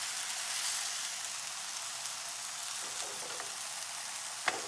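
Portobello mushrooms saute in a hot pan with a steady, even sizzle throughout, a single brief clack near the end, and a voice speaking faintly over the frying.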